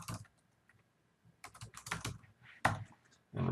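Password typed on a computer keyboard during a software installation: a few soft, close keystrokes in short irregular bursts with brief pauses, fairly quiet in a still room.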